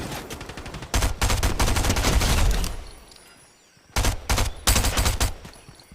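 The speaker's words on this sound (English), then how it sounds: "getting shot at from the side." Bursts of rapid automatic gunfire from a video game shooter, two dense volleys separated by a quieter gap, loud and close with a rattling, crackling rhythm.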